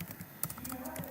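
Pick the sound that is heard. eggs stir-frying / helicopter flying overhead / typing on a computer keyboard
typing on a computer keyboard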